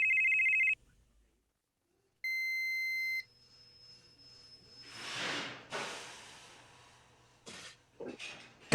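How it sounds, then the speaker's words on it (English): An electronic telephone ringtone sounds in two loud steady bursts separated by a pause, followed by rustling, shuffling noises and brief clicks in a quiet room. "Phone rings. Phone rings. Phone rings. Phone rings."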